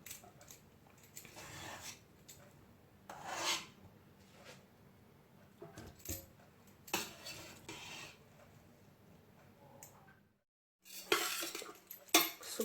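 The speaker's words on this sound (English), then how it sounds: "So we want to make sure we stir everything." Vegetable fried rice stirred in a pan, quiet scraping and clinking of a utensil against metal in irregular bursts, with a brief silent gap near the end before the stirring resumes.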